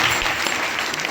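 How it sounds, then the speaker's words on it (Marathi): An audience at a religious Harinam gathering applauds for a visiting sadhu, loud, even clapping from many hands filling the whole moment without pause. "त्यांच्यासाठी एकदा टाळ्या वाजवायला हरकत नाही."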